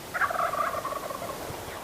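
Wild turkeys gobble from their roost about 200 yards off, a rough, rolling call that carries clearly across open ground and fades out with no voices present.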